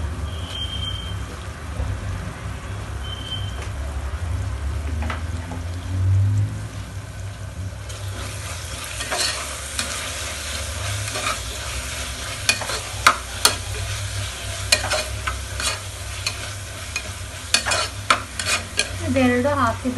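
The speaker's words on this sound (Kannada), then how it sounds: "ಇದೆರಡು ಹಾಕಿದಾದ್ಮೇಲೆ ಒಂದು 2 ಮಿನಿಟ್ಸು ಈ ರೀತಿ ಎಣ್ಣೆಯಲ್ಲಿ ಫ್ರೈ ಮಾಡ್ಕೊಳ್ಳಿ, ಮಿಕ್ಸ್ ಆಗೋ ಥರ." Garam masala frying in hot oil while being stirred in a pan, a steady close sizzle with scraping stir strokes and sharper clicks of the spoon toward the end.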